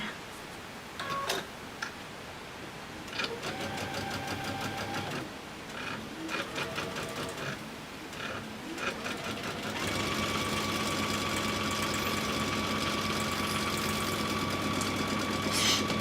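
A sewing machine stitches in bursts, with rapid mechanical ticking runs separated by short pauses, then settles into a longer continuous whirring run near the end, fairly quiet and close.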